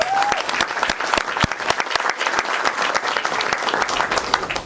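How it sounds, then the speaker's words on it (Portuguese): A crowd at a talk on conservatism gives loud, sustained applause for a speaker named Felipe, with many hands clapping steadily and close. "Uma salva de palmas para o Felipe, pessoal."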